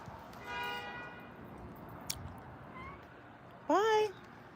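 A cat meows once, loud and close, near the end, with faint background noise and indistinct sounds earlier.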